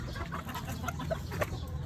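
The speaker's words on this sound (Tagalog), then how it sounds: "Dito naman sa lalaking manok." Several short, soft clucks from a rooster, close by, over steady low background rumble.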